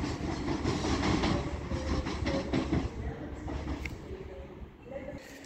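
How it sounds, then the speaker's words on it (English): An Avanti West Coast Class 390 train pulls into Stockport station on the West Coast Main Line, a loud, close rumble of wheels and carriages with rhythmic clatter that gradually eases. "Avanti West Coast Class 390 running from London Euston to Manchester Piccadilly."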